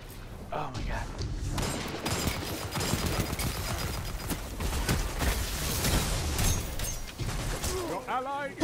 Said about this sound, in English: His gunfire is faster than mine.